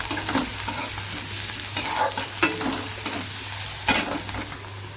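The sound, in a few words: garlic and onion frying in mustard oil with stirring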